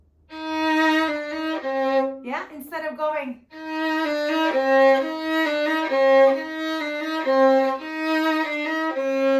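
A violin plays a sequence of sustained, evenly held tenuto notes from Carol of the Bells, close and clear, briefly interrupted by a short spoken phrase.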